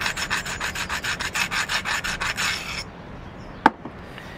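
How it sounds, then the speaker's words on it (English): A copper nail set in a rod scrapes a flint knife edge in quick, rhythmic abrading strokes for about three seconds, close and clear, then stops, followed by a single sharp tap. "So what I'm doing is a copper nail inserted into a rod, and I'm holding it underneath my leg. I'm going to abrade, get rid of any weak edges"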